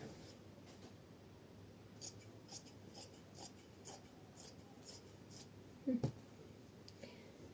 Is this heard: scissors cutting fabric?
yes